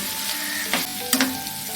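Turmeric and chili powder sizzling in coconut oil while being mixed, a steady close frying hiss broken by two short scraping stirs.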